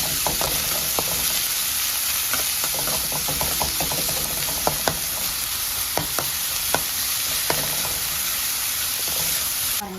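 Vegetables sautéing in oil in a pan, a dense continuous sizzle with frequent small crackles and pops, punctuated by occasional light knocks of a utensil, steady and close.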